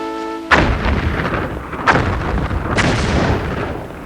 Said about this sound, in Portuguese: Explosões sacudiram a ilha, fazendo com que a água do fosso se agitasse e borbulhasse